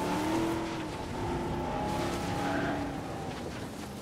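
A vehicle drives through a dinosaur park in Jurassic World Evolution, its engine a steady tonal hum that rises and falls gently under a soft ambient background, moderately quiet and with no talking.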